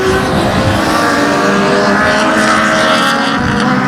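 Race cars roaring around the 281 Speedway oval on the final lap of a dirt-track-style event, a steady loud engine drone that swells and hums continuously with no breaks, close and dense.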